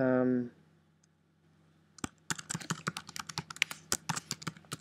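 Rapid computer keyboard typing, close and crisp, in irregular bursts of clicks after a brief spoken tone at the start and a short pause.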